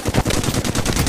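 Rapid automatic gunfire in a video game, a fast burst of loud close shots in steady rhythm, about a dozen rounds packed together with no talk.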